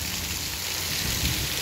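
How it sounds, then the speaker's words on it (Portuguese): Rain pours steadily in Acopiara, Ceará, a dense, even hiss of falling water with no breaks, heard alone without talk. "Uma chuva abençoada mesmo, que molha o plantio e que traz água para os nossos reservatórios."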